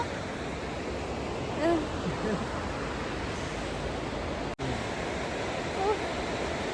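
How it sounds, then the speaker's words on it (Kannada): The Yamuna river near Manali rushes past as a constant, loud wash of flowing water filling the whole scene, with faint voices barely audible beneath it. "ಇಲ್ಲಿ ರಿವರ್ ಹತ್ರ ಆ್ಯಕ್ಚುಲಿ ರಿವರ್ ಬಂದು ಯಮುನಾ"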